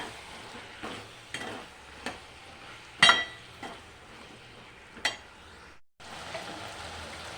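Salted eggplant fries in a pan for a curry, a gentle low sizzle punctuated by spaced spatula knocks and one sharper metallic clink, ending with a short pause before the hiss resumes.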